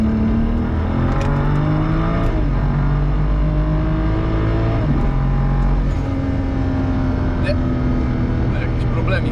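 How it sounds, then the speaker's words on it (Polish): A 2006 BMW 335i E92 pulls hard in third gear from 100 to 200 km/h on an unrestricted German autobahn, its engine note climbing steadily through the revs under loud wind and road roar, with a voice talking over it. "z trzeciego biegu sobie 100-200 zmierzymy"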